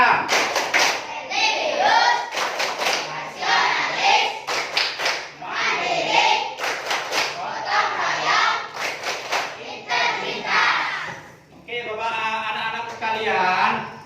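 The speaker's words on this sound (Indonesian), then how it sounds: "coba sekarang kita sama-sama tepuk PPK" Classroom of children performing a rhythmic PPK clapping chant, bursts of sharp unison claps alternating with chanted voices, loud and close.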